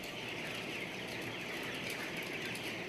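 Chickens raised as test birds cluck in a research laboratory pen, soft calls half buried in a constant loud hiss of room noise, with no voices.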